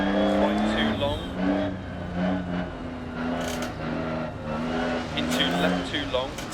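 A Lancia Stratos rally car in Dirt Rally, its engine droning and revving steadily through a snowy, icy Monaco stage, with a voice talking over the engine the whole time.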